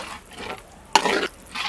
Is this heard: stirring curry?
yes